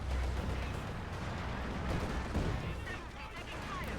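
A Company of Heroes 2 battle with tank and infantry fire, a dense low rumble of distant shots and booms running continuously beneath ongoing talk.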